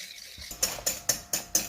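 A whisk strikes the side of a bowl in four or five quick, evenly spaced clinks while beating eggs with sugar, close and fairly soft, with no talking.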